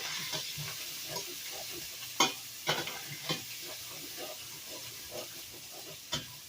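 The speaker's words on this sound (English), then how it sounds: "a half a stick of butter, doesn't matter salted or unsalted. You're going to add that into there." Half a stick of butter melts and sizzles with browned beef in a pan, a steady close frying hiss broken by occasional stirring scrapes and a few soft voice sounds.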